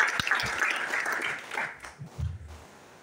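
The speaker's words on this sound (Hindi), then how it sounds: "अपने लिए ताली बजाओ" Live audience at a corporate management seminar in Thane applauding, a broad wash of clapping that fades out over a few seconds.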